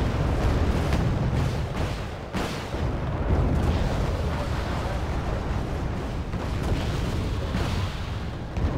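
In Wargame: Red Dragon, an attack helicopter fires on a tank in a dense, continuous roar of battle, with heavy booms and bursts of fire layered under rumbling explosions at close range.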